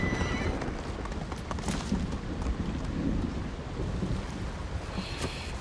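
Hooves clop over a rumbling, rain-like background in the video game Ghost of Tsushima, with a horse's whinny rising briefly near the start and again at the end.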